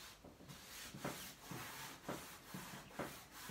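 A hand rubs back and forth over fabric painted with Annie Sloan chalk paint and then sanded, giving a faint, close, rhythmic scratchy swish with roughly two strokes a second.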